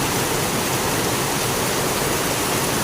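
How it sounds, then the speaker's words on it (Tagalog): Heavy downpour of rain with runoff overflowing a street canal, a loud, dense, unbroken roar of falling and rushing water filling the whole stretch with no voices. "grabe ang buhos sa ulan. Napuno na ang kanal."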